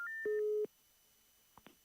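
A telephone busy signal cuts in on a breaking call-in line during a radio talk show: a few short, moderately loud tones in quick succession, then near silence with a couple of faint clicks.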